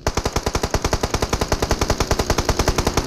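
Rapid automatic gunfire in the mobile battle-royale game PUBG Mobile, a loud, steady stream of about thirty evenly spaced shots running unbroken for three seconds with no talking.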